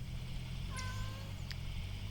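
A pet cat gives a single short meow partway through, fairly faint against a low, steady background hum.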